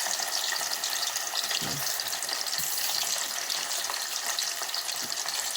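Yam slices fry in shallow oil, a continuous close sizzle with occasional soft bubbling pops, steady and unbroken with no speech.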